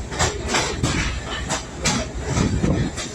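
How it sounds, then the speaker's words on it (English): A passenger train on the former Reading Railroad line rolls along at a modest speed, its cars giving off repeated rhythmic clacks and thumps over a continuous rumbling hiss, close and steady throughout. "the train is rocking a little bit"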